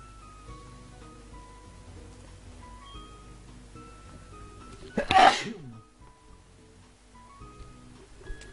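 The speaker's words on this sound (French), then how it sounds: "je viens d'éternuer comme un gros porc" A single loud, sharp human sneeze bursts out over quiet game music, near and sudden, fading back to the soft background within a second.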